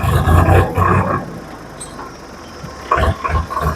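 A second-hand tractor pulls away in first gear, its engine a loud, low rumbling roar that swells at the start, eases through the middle, then surges again near the end.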